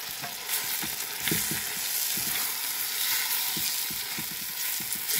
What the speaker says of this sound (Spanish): Voy a agregar el jitomate y la cebolla.